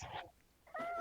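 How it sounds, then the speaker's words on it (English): A large domestic cat being held gives two short, partial meows separated by a brief pause, close and fairly quiet with no talking. "that's a partial meow"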